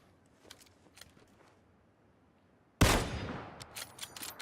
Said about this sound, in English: I'm going to shoot that guy